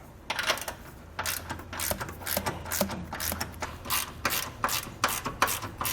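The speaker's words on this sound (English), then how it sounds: "we're going to take our 9/16 inch socket. We're going to first start by tightening these upper bracket here to the frame." A ratchet fitted with a 9/16 inch socket tightens nuts on the upper bracket of an air helper spring against a truck frame, a steady run of quick metallic clicks in short bursts with brief pauses, close and fairly loud.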